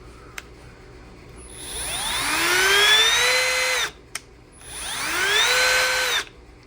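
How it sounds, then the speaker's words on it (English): A Milwaukee M12 Fuel compact cordless hammer drill whirs up to speed twice, each run a loud, rising high-pitched whine lasting a couple of seconds, separated by a short pause. "it actually will work like a hammer drill"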